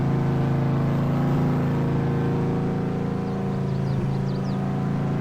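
A truck engine in a farming video game, heard as a steady, even drone that holds at a constant level throughout, with no speech.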